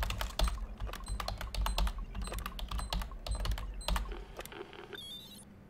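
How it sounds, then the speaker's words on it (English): Rapid keypad typing on a door screen in the Alien Isolation video game, a dense run of sharp, evenly spaced clicks for several seconds, closing with a short electronic beep tone. "Just note the symbols I'm typing actually appear on the door screen."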